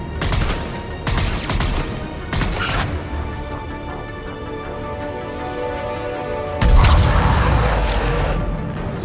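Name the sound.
gunfire in Mass Effect 3 video game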